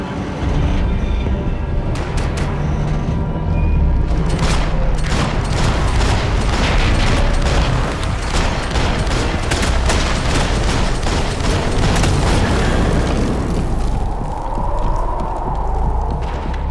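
Sustained heavy gunfire in the shooter video game Max Payne 3, dense overlapping shots and booming impacts filling the whole stretch at high loudness, with no voices clearly heard.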